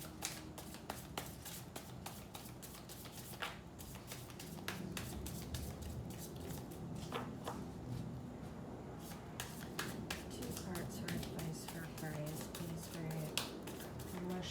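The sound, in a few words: shuffling tarot cards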